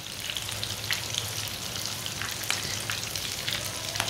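Marmare kababs frying and browning in a pan, a continuous loud oil sizzle with small crackles and pops.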